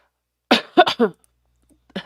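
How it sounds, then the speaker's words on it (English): A few sharp coughs close to the microphone, a quick burst of two or three, then silence and another short cough at the end. "Sorry, I just coughed in your ear."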